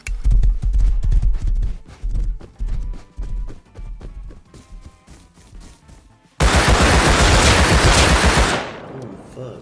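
Rapid gunfire bursts in the video game Rust Console Edition, close sharp shot trains in quick succession. A long loud sustained burst of shots follows, with no talk over it.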